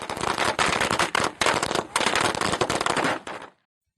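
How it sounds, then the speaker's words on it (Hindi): Dense, loud crackling bursts of firecrackers going off continuously at a Jyotiba Phule Jayanti celebration in Karauli, Rajasthan, with a few brief pauses, then stopping abruptly near the end. "ज्योतिबा फुले सर्कल पर दीपदान कर आतिशबाजी की गई और खुशियां मनाई गई।"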